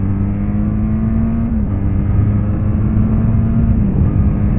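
A Benelli TRK 502 X adventure motorcycle, a Euro 4 model, hums along while being ridden, its engine giving a steady, moderate drone with slight pitch shifts and a constant rumble of wind and road underneath.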